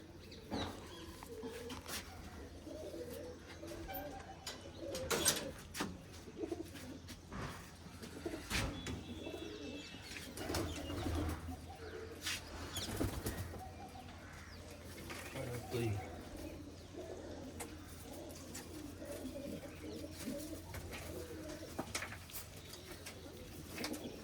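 Pigeons at a breeder's loft coo softly while sharp bursts of wing flapping break in now and then over a low, murmuring background with faint voices.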